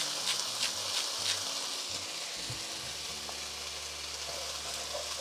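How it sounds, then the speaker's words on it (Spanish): Drained potatoes fry in oil in a pan with a soft, steady sizzle, fairly faint and continuous, joined by a few light stirring scrapes near the start. "En este mismo aceite vamos a agregar las papas. Miren, ya las escurrí y las vamos a dejar que se doren muy poquito."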